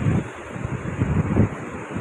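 Waves wash and rumble nearby on Arambol beach in Goa, mixed with gusty wind buffeting the microphone, surging louder twice before easing off.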